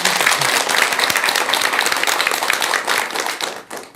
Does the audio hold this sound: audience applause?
yes